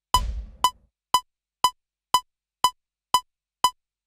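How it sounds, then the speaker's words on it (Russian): A stock Cubase metronome played through a Mooer GE250 guitar processor ticks in a steady, even rhythm, eight crisp clicks about half a second apart, loud and alone, with a brief low thump under the first. "это звук стокового метронома в Кубейсе"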